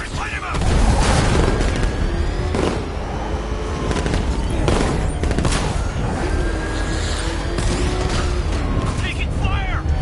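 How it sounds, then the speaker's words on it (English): Gunfire in the video game Batman: Arkham Knight, a loud continuous barrage of shots and booming impacts over rumbling engine and action noise, with voices talking over the fighting. "I'm taking fire!"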